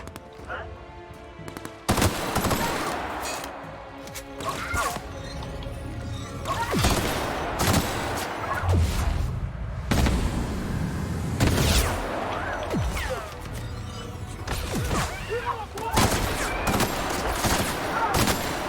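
Gunfire from The Outer Worlds on Supernova survival mode: repeated loud shots and rapid bursts crack over a continuous game backdrop, with a player's voice speaking briefly amid the shooting.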